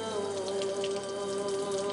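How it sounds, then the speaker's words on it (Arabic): Water pours steadily from a tap into a sink beside a fast water heater, a constant smooth hiss with no break and no voices. "دي اللي بتفتح الميه؟"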